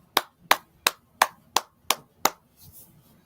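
Seven slow, evenly spaced hand claps ring out sharply and close by, each a crisp single smack with a short decay, before a brief quiet tail with no talking.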